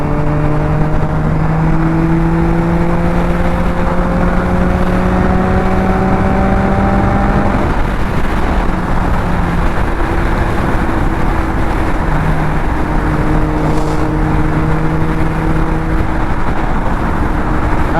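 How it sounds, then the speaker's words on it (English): A naked motorcycle fitted with PUIG Downforce spoilers cruises at highway speed: a steady engine drone with sustained tones sits under a constant, heavy roar of wind buffeting, continuous and loud throughout with no talk. "Now I am getting a lot of wind on my chest, but guys, I'm riding a naked bike."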